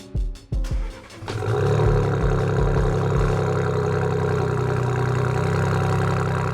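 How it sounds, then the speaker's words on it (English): A Ford Bronco fitted with a CORSA exhaust cold-starts close by: a few clicks and starter cranking, then the engine catches and settles into a loud, steady, deep idle. "So we got the exhaust system in, did a cold start, sounds absolutely fantastic."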